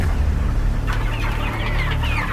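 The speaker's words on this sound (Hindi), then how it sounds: "ये मुर्गियां देख रहे हैं आप?" Several hens cluck and chatter in short, rising calls over a low, steady background hum, fairly close and continuing for a couple of seconds in a historical drama scene.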